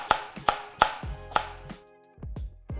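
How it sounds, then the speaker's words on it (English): A knife cuts through a tomato on a cutting board, making about eight sharp, close chops, quick at first and then slower and spaced apart after a short pause. "so we're just gonna cut a little bit of it, maybe like a third of the tomato."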